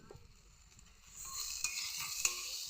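Elephant foot yam with salt and turmeric is stirred in a pan, starting with a few soft scrapes and then rising into a steady close sizzle with sharp spoon clinks against the metal.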